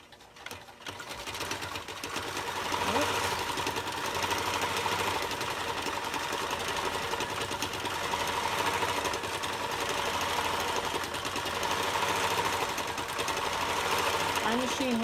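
A domestic sewing machine with a stitch regulator runs steadily while quilting, giving a loud, fast, even mechanical whir and rapid needle clatter, with a voice speaking at times.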